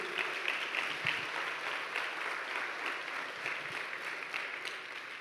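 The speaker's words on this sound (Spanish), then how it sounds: "denle un aplauso a Dios." A church congregation applauds together, a dense, even wash of many hands clapping that holds steady for several seconds in a large room, with no voices over it.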